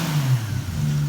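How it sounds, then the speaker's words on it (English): A Toyota Supra 2JZ engine converted to single turbo with a billet turbo revs briefly nearby, its tone rising and falling over about a second before settling back to a steady hum. "It revs no problem."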